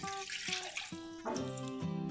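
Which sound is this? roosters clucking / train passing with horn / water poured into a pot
water poured into a pot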